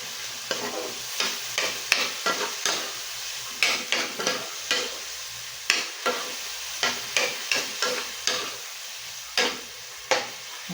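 Spaghetti sauce with broth cubes and a splash of water bubbles and sizzles in a pan while a spoon stirs and scrapes in repeated irregular strokes, close and fairly loud, without speech.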